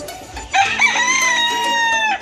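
A rooster crows once on a rural farm in Botolan, Zambales, loud and close, a long drawn-out call standing alone over a quiet yard.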